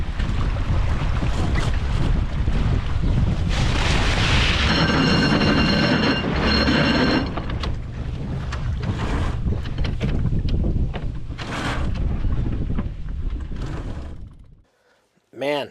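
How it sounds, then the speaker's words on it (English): A racing sailboat under way, with loud rushing wind and water, flapping sails and a long grinding, rattling winch in need of servicing, while crew voices talk throughout before the noise abruptly cuts out. "don't you just love the sights and sounds of sailing? The winches, the sails, even that terrible sounding winch that needs serviced really badly"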